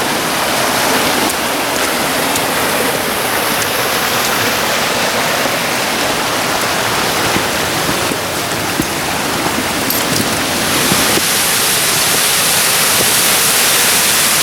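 Loud, steady roar of a waterfall on the Puck's Glen walk, a dense continuous rush of falling water that fills the whole stretch with no voices over it.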